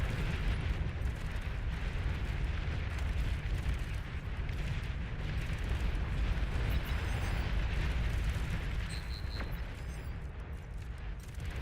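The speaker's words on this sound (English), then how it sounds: "Enemy commander destroyed." An enemy commander unit blows up in the real-time strategy game Beyond All Reason, a deep, sustained rumbling blast with crackling debris that fills the whole span at steady loudness, with a few faint bright tones near the end.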